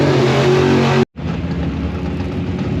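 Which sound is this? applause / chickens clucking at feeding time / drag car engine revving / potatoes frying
drag car engine revving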